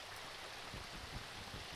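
Flowing water in the Minecraft RLCraft video game, a steady soft stream-like rush with faint babbling, no voices.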